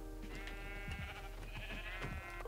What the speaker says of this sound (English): good news is that there is sheep